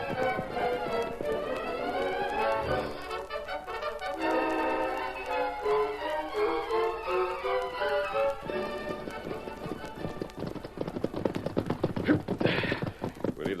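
Rhythmic hoofbeats of horses clip-clopping along, mixed with swelling dramatic music throughout, growing busier and louder toward the end.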